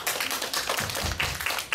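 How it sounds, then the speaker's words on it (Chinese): Audience at a literary lecture in Taipei applauding a speaker, a short burst of dense scattered clapping, moderately loud and alone. "再掌声欢迎他一下"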